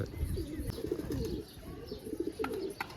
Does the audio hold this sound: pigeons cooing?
yes